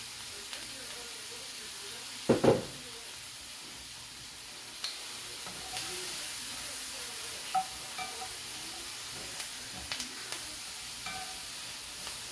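Brussels sprouts and mushrooms fry in extra virgin olive oil in a pan, giving a steady, faint sizzle with a sharp clatter early on and a few light knocks later.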